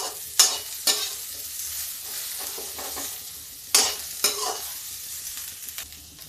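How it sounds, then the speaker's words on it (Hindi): Onions frying in a pan for a rustic village-style okra dish, with a few sharp stirring scrapes and clinks over a low steady sizzle, close and fairly quiet, no talk. "देखिए, अब इसी में प्याज डाल देते हैं। प्याज भून लेते हैं थोड़ा सा"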